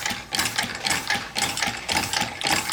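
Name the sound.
steam engine running with new stainless valve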